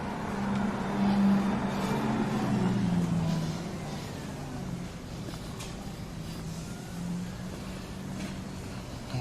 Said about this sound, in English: Electric cars are wacky with the sounds.